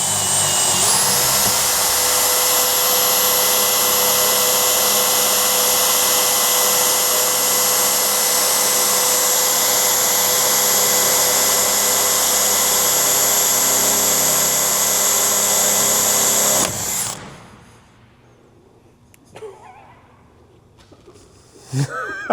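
A power tool cuts through aluminum on a pontoon boat project, a loud, steady high-pitched whine that runs for about seventeen seconds and then stops abruptly, leaving quiet rustling.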